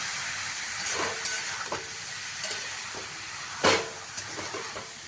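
Chopped banana flower (mocha) fries in a pan under a soft, steady sizzle. A spatula stirs it with occasional light scrapes and taps, and one louder scrape comes near the middle.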